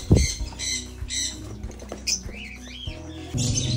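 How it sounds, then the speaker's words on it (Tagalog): Several birds in an aviary squawk and chirp close by in a busy mix of harsh calls and short twittering notes, with a little scuffling among them. "Maraming ibon talaga na."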